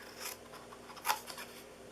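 Scissors cut paper for a Christmas stocking treat box, making a soft snip early on and then one crisp, close cut about midway, with quiet rustling between and no speech.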